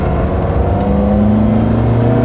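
Rally car engine fitted with twin 40 Weber carburettors revs steadily and loudly up close, a continuous throaty drone with rising harmonics and no talking.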